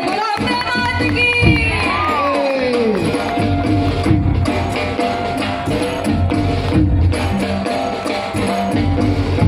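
Crowd at a traditional Bhondla puja cheering and shouting loudly, with a dense roar of voices, whoops and clapping filling the space continuously, close and energetic throughout.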